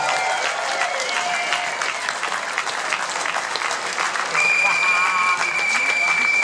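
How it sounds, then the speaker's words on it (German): A festival audience at a Munich pride event applauds loudly and continuously, a dense close wash of clapping with cheers, growing slightly fuller toward the end. "einen großen, großen Applaus"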